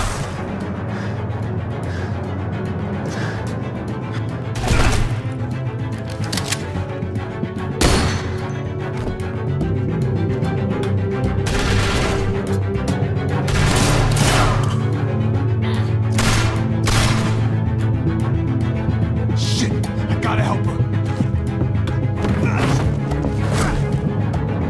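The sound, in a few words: gunfire in The Walking Dead video game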